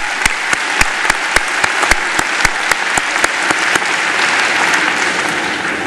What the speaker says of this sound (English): Worthy of applause, wouldn't you agree?